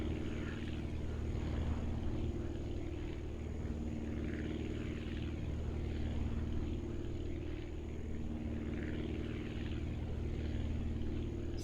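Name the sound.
propeller aircraft engine in video game Aviassembly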